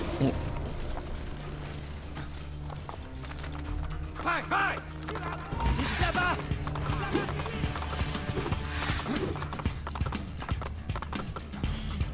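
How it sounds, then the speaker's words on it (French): Hoofbeats of a horse galloping in a video game, a steady clip-clop rhythm running throughout over game music, with someone talking over parts of it. "C'est un bon cheval."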